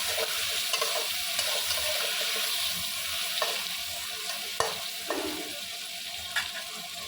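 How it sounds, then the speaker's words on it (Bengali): Pumpkin and eggplant pieces seasoned with salt and turmeric frying in a pan, a steady hiss of oil sizzling with occasional stirring scrapes and knocks, close up and without talk. "কুমড়ো আর বেগুনটা একটু ভাজা হোক।"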